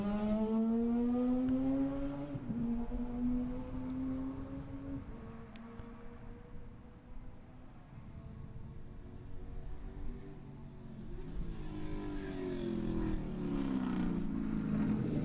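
An engine roars close by, its pitch sliding down as a Mazda RX-7 race car passes at Sebring, followed by another engine rising loudly as the next car approaches.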